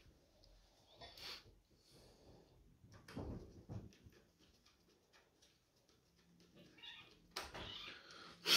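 Cats meowing and scuffling as they fight indoors, with several sharp yowls and thumps spread across quiet, faint stretches.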